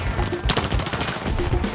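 Rapid gunfire in the VR shooter game Zero Caliber, a dense burst of shots packed together over busy game noise.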